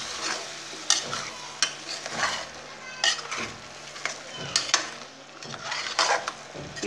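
Rice and lentils being stirred in a pot for a traditional Tamil kootan soru, with repeated scraping strokes of a spoon against the metal and a soft sizzle underneath, close and steady.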